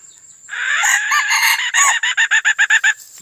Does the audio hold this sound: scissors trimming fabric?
no